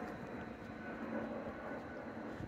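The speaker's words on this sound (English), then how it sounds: "These planes come right down Cimarron Avenue, right on the edge of downtown to the International Airport." An airplane passes low overhead on its approach to Orlando International Airport above a street near downtown, making a steady broad engine rumble and roar for the whole stretch with no voices.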